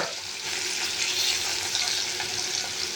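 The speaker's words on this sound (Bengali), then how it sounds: "কড়াইয়ে দুই দিকে মাছটা আমি ভেজে নেব।" Katla fish frying in a kadai, with a steady broadband sizzle of hot oil that holds constant and close throughout, with no talk.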